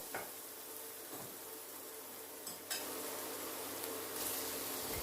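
Steady, quiet sizzling of chopped garlic and shallots frying in a hot wok for pad thai, with a few light clinks of a utensil against the pan.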